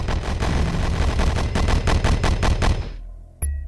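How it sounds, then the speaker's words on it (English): Sustained burst of automatic gunfire in the Horus Heresy: Betrayal at Calth video game, a dense rapid rattle of suppressive fire lasting about three seconds, then cutting off to near silence before one sharp final shot. "Suppression fire."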